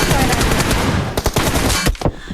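Rapid automatic gunfire from the mobile shooter PUBG Mobile rattles loudly and continuously, briefly breaking into a few separate shots near the end.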